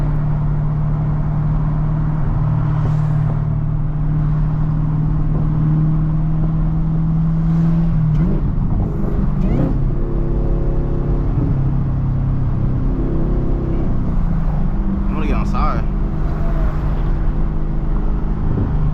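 A manual Chevrolet Camaro ZL1 engine drones steadily while driving, its pitch climbing, dropping and climbing again with gear changes, under constant loud wind buffeting.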